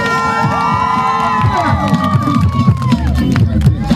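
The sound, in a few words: crowd cheering and applauding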